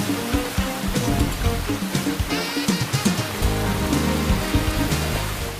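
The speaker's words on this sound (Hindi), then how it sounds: "मैदानी इलाकों में मूसलाधार बारिश हुई" Heavy downpour over lowland plains in Pakistan, a thick rushing wash of water with uneven surging pulses and spattering bursts, loud and continuous with no talk.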